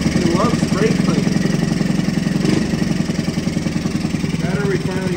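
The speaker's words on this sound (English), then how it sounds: "Dude, it's running pretty good." A 1985 Honda ATC 110 three-wheeler engine runs nearby with a steady, chugging putter at a fast even rhythm, loud and close, with a voice occasionally over it.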